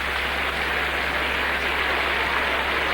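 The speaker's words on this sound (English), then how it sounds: "you can hear the applause of the crowd, including the Leeds supporters" Football crowd including Leeds supporters applauds in a stadium, a dense, steady wash of clapping and noise sustained evenly for the few seconds with no talk over it.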